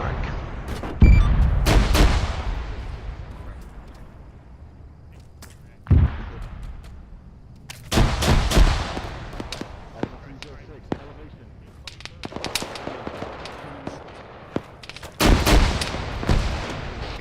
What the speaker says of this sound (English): Incoming fire from the north.